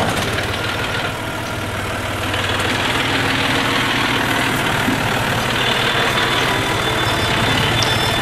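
A farm machine cutting seed potatoes runs with a steady, loud mechanical drone and rattle, continuous and unbroken throughout with no talking.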